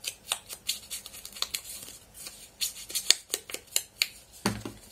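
Scissors snipping off excess paper on a scrapbook album page, a series of close, sharp cutting strokes in an uneven rhythm, alone.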